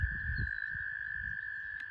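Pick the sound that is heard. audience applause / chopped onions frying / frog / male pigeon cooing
frog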